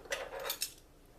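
A metal measuring spoon clinks against a bowl while adding cloves, two or three light, bright taps close by in a quiet kitchen.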